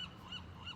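A bird calls in a steady repeated pattern of honking, goose-like notes at moderate distance, with no voices over it.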